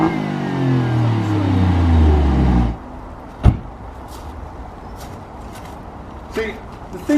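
Alfa Romeo Giulia Quadrifoglio engine revving loudly and close, a rising, throaty roar for about two and a half seconds that cuts off sharply, followed by a single sharp knock and quiet background.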